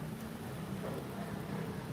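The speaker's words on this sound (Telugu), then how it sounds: "ఇప్పుడు వర్షం పడుతుంది హైదరాబాద్లో" Rain falls in Hyderabad as a soft, steady hiss of drops on surfaces, faint and even throughout the brief moment with no voices.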